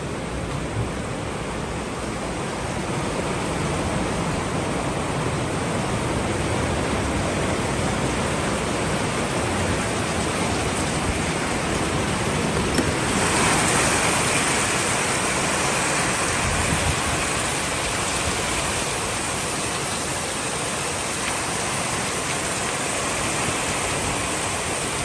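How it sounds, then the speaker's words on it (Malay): Heavy rain pours down in a steady, loud roar that swells slightly near the middle and keeps on without a break, with nobody talking. "hujan lebat."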